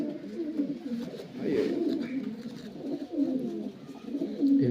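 Pigeons in a loft coo continuously, a low throaty burbling that rolls on without pause at moderate volume, close by.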